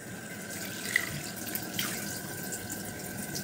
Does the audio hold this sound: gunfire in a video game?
no